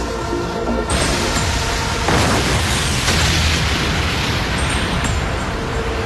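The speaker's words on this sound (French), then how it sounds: "Ces explosions voudraient-elles dire que les autres ont réussi?" Cartoon explosions in a Bakugan battle arena: a loud booming burst followed by continuous roaring, crackling blast noise that fills the scene.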